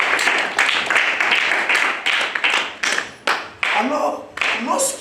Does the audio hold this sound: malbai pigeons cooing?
no